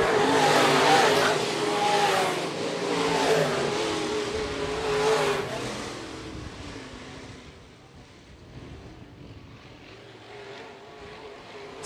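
Modified race cars on a dirt track at a county raceway roar past with revving engines. The noise swells loudly and then fades as the pack moves into the distance, with no voices.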